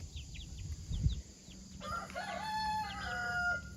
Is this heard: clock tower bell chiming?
no